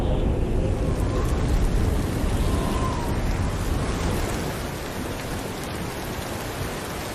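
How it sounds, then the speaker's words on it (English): Heavy rain pours steadily, a dense, constant hiss of drops striking surfaces, close and loud, easing slightly toward the end. "Once it started raining"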